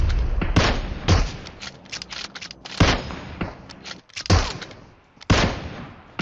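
Heavy blasts and gunfire in the battle game PUBG Mobile, a series of loud booming bursts roughly every second with sharp decays between them, no speech.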